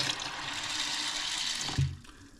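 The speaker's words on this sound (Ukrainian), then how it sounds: "І це все діло заливаємо водою." Water gushes steadily into a container of cleaned corn that is being soaked along with hemp, then the pour stops with a brief thump near the end.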